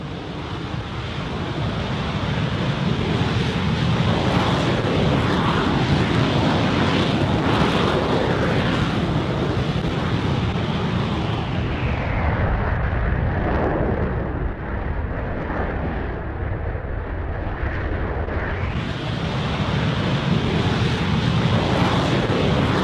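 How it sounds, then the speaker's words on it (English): A Rocket Lab Electron Stage 1 full stack engine test firing roars steadily at 216,000 newtons of thrust, a loud, sustained broadband rush like heavy wind that never lets up, with a brief dip in the hiss partway through. "Here's what our Stage 1 full stack engine test looks like."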